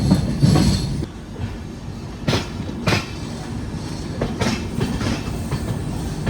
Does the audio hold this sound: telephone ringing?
no